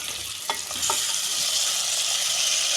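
Tomatoes fry and sizzle in a pan over medium flame for a Telugu bottle gourd curry, giving a steady close hiss with a few scrapes of stirring near the start.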